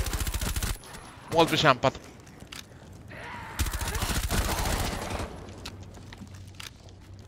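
Suppressed MP5 gunfire in the video game Operation Outbreak, rapid bursts of muffled automatic shots in several clusters, close and punchy, with a brief spoken radio-style voice line in between.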